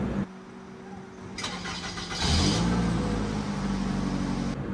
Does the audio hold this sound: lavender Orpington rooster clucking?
no